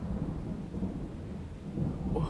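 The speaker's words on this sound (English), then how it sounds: "No, I'm not scared of the thunder." Low rolling thunder rumbles through a thunderstorm, a steady deep grumble with rain hiss beneath, swelling slightly near the end and heard alone without talk.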